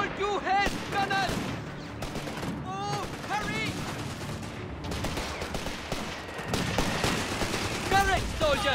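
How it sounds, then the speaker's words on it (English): Rifle and machine gun fire in the war game Company of Heroes 3, dense continuous volleys and bursts mixed with shouted voices throughout. "That's rifle fire!"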